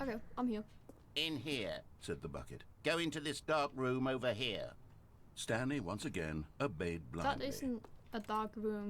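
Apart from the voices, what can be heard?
None of the usual background noises is heard.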